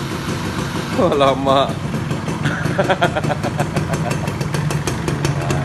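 A Suzuki Best RR110 motorcycle is started by remote: a short whirring crank, then the small engine catches and settles into a steady close putter, while someone talks over it.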